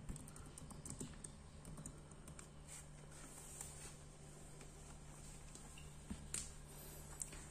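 Fingers type a question on a computer keyboard in quick, light bursts of clicks. The sound is close but quiet, with short pauses between runs of keystrokes and no voices.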